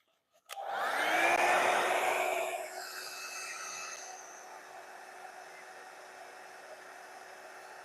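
A hair dryer switches on abruptly and blows steadily, drying paint on an art piece; a loud broadband whoosh that eases slightly after a few seconds and keeps running with a constant hum.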